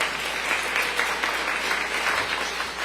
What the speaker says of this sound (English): And so I just want to give them another round of applause for the future